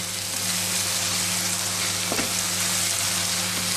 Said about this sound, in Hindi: थोड़ी देर हम गैस पर रखेंगे ताकि ये मेथी भी ऑनियन के साथ अच्छी तरह से पक जाए